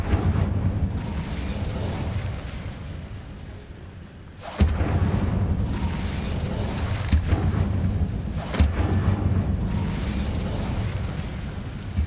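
Fire spell cast in the Hogwarts Legacy game: a sudden sharp burst at about four and a half seconds, then a sustained roaring, crackling rumble with a few more small pops.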